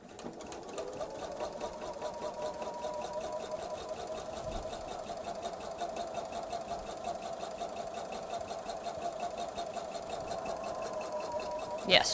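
Sewing machine stitching a bag made from a jelly roll of fabric strips, with a steady, continuous mechanical whir that is close and moderately quiet, ending with a brief clunk.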